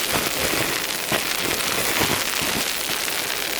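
Ice pellets patter densely and steadily onto a car during a winter storm, a close, continuous hiss of tiny impacts with scattered sharper ticks and no voices.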